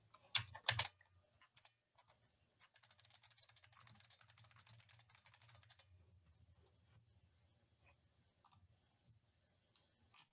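Computer keyboard typing: a couple of sharp loud keystrokes followed by a soft, steady run of light clicks and scattered taps over a faint low hum, quiet and close.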